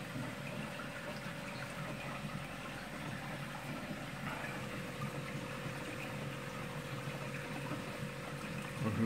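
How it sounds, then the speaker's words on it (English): Reef Octopus Regal 300 aquarium protein skimmer pump running with a steady hum and bubbling water churn, constant and close, with no talking. "let me turn my skimmer back on"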